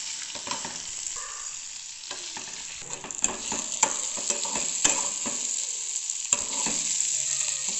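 Sliced bitter gourd, kakarakaya, fries in a pan with a steady high hiss of sizzling oil, punctuated by irregular scrapes and taps of stirring that cluster in the middle.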